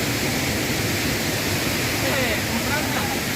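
Asurghati waterfall in Mayurbhanj district roars as a steady, loud wash of falling water, broadband and unbroken throughout, with no voices over it.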